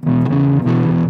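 Harmony Danelectro/Stratotone electric guitar playing a heavily distorted rock and roll riff, a loud gritty chord pattern in a steady rhythm with a brief break midway, alone with no talk.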